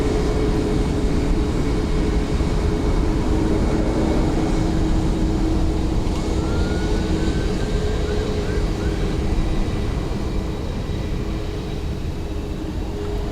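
A jet aircraft departing Dublin Airport roars steadily at a distance, a broad, continuous rumble with a faint whining tone that fades slightly toward the end.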